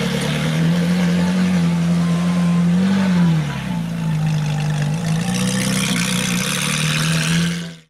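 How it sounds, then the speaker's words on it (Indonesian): A Ferrari race car engine drones loudly with a sustained hum, briefly rising in pitch as it revs, then settling back into an even whine before stopping abruptly. "Di sini ada mobil Ferrari."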